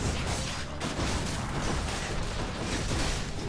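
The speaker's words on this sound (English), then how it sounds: "Loads of explosions" Rapid chain of explosions in the action game Hades, a loud, dense rumble of overlapping booms and crashes with a few sharper bursts, steady for the whole stretch and with no voices.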